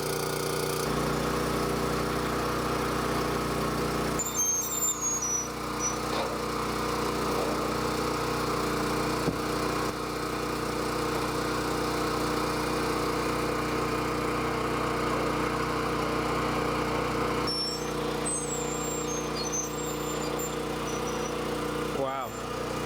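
Generator powering a gutter-forming machine at a gutter and downspout install, a steady loud mechanical engine drone running throughout with a few brief higher clanks over it.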